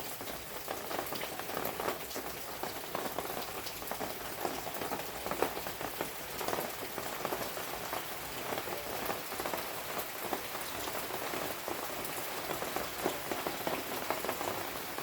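Rain falls steadily on surfaces, a soft, even patter of drops that continues without pause and stays fairly faint throughout.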